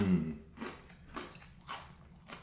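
A U.S. MRE roll-up gives several quiet, crisp bites and chews, spaced about half a second apart and close to the microphone.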